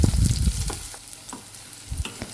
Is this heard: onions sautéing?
yes